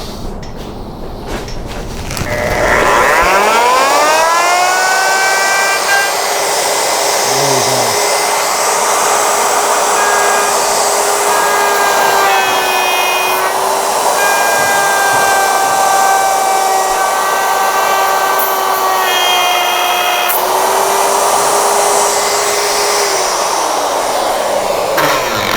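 A Ryobi 2 HP 10-amp plunge router spins up and cuts a straight line across a wooden board, a loud high whine held steadily for about twenty seconds, pitch dipping slightly as it bites, then winding down.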